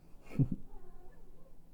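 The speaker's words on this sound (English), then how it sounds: "So a cat just came by" A cat meows twice in quick succession, close and fairly loud, against a quiet indoor background, then the room falls silent.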